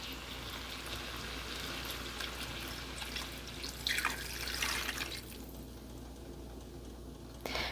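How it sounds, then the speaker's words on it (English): Chicken broth poured into a hot pan for a butternut squash pasta sauce, a soft steady liquid stream with a brief gush and splash midway, faint and close with quiet bubbling. "And my chicken broth."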